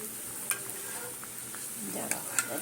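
Veg paneer puffs shallow-fry in a little oil, with a steady soft sizzle broken by small crackles and pops, close and fairly quiet.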